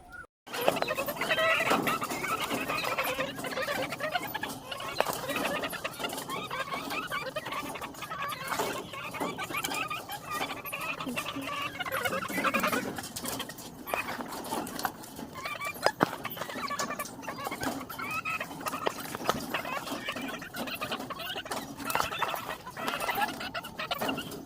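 A flock of BV380 laying hens on a poultry farm produces a dense, constant chorus of clucking and murmuring close by, with scattered sharp clicks and knocks throughout.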